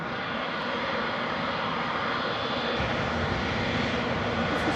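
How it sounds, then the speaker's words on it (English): Boeing 747 jet engines during landing, a broad steady roar from a distance that continues evenly without pause. "The 747 just touched down."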